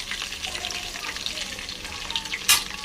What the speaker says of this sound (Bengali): এবার ওই তেলে আমি আলু ভেজে নেব।